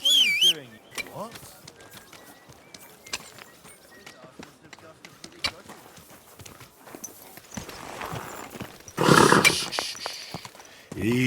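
A horse in the medieval video game Kingdom Come: Deliverance 2 clops along with a steady run of hoofbeats, and a short whinny sounds at the start, while characters talk over it.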